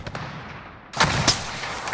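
Gunfire in Call of Duty Warzone: after a quiet stretch, a few sharp, loud shots crack close by, separated by short gaps, with no talk.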